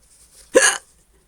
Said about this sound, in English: She's got the hiccups again